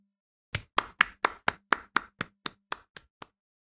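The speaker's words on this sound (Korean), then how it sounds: "우리 하나님께 영광의 박수 돌리겠습니다." Congregation at a Sunday worship service claps in a quick, even rhythm, about a dozen sharp claps that fade and then stop, heard clearly with no talking.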